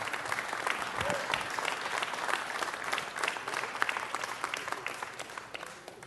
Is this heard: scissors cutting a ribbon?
no